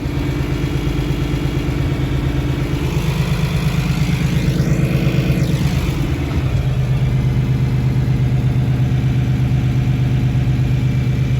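A tractor engine runs steadily in a hay field, a continuous low droning chug that shifts briefly midway before settling back into an even idle-like rumble, with no talking.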